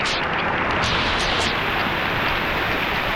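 Water pours at a hidden waterfall in Zirad, a steady loud broadband rush filling the whole stretch without pause, with no voices rising above it.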